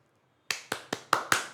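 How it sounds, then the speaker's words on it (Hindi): Five sharp, evenly spaced claps or snaps in a lecture setting, quiet and close, with no talking. "एक बार जोरदार तालियां, जोरदार तालियां, जोरदार तालियां"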